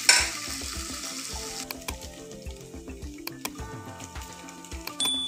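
Potatoes frying in oil in a pan along with onion and green chillies for a brinjal, potato and moong dal curry, giving a steady close sizzle broken by clicks and scrapes from stirring.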